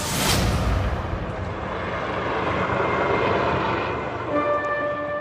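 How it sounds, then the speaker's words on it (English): A loud, steady aircraft drone fills the air as a helicopter passes overhead above a city, its engine tone holding constant throughout. "You see a helicopter fly over the city."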